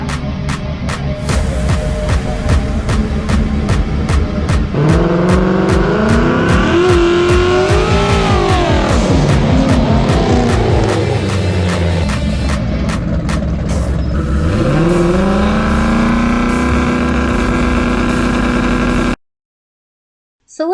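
Drag racing cars launch down the strip at Accelaquarter Dragway, engines roaring loud and continuous as they rev up and pull away hard through rising gear sweeps, then the sound cuts off abruptly.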